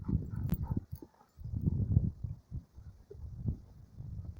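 A dog being trained outdoors, with scattered soft barks, whimpers and scuffling movement mixed with light footfalls, fairly close and moderately quiet, no speech.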